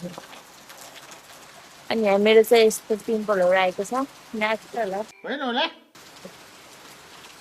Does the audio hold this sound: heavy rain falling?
yes